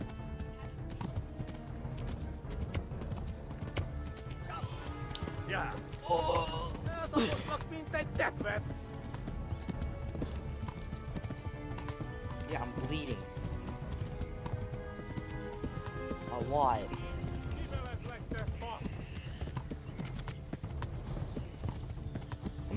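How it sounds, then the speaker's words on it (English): Galloping horse hooves clip-clop in a video game, a steady running rhythm under continuous talk and game music, with brief louder moments. "I'm on a horse, running away from people with big weapons."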